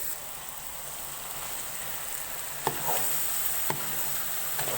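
Eggs land in hot masala in a frying pan, setting off a steady crackling sizzle with a few sharp pops and spatters rising over it, close and moderately loud, with no talking.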